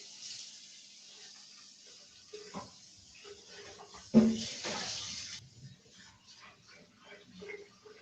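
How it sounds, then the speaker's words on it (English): Water from a tap rinses an Optimum blender jug, a steady hiss of running water broken by a few splashes and knocks of the jug, fairly quiet and close. "I'm gonna quickly rinse the jug, so I'm gonna show you also how easy it is to clean."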